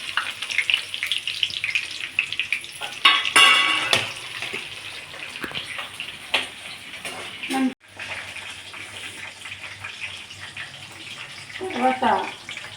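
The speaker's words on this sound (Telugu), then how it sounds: "ఆయిల్ వీటెక్కిపోయింది. పోపులన్నీ వేసేసుకుందాం." Tempering spices, among them dried red chillies, garlic, urad dal, mustard seeds and cumin, hit hot oil with a continuous crackling sizzle and sharp popping bursts, some clinks, and brief talk.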